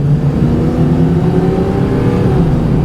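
A Fox Body Ford Mustang V8 launching with slight wheel spin, its engine roaring loud and close in a continuous, steady drone with no talking.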